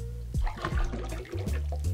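Novo Fogo cachaça, 40% ABV, poured into a jigger for a two-ounce measure, a steady liquid stream with splashing bursts through most of the two seconds, close and moderately loud.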